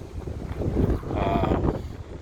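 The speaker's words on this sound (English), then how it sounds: "Today it's getting windy and cool out." Steady wind rushing and buffeting against the microphone on a hiking trail, a low rumbling gust that swells in the middle and stays constant throughout.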